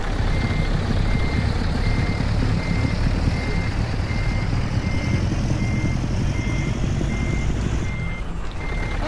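Steady reversing beeps repeat at an even pace over the low rumble of a heavy truck engine in Euro Truck Simulator 2, with a brief air-brake hiss near the end.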